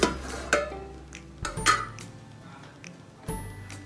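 A metal lid is lifted off a pot of chicken dum biryani just taken off the heat, giving a few sharp clinks and clatters against a quiet kitchen background.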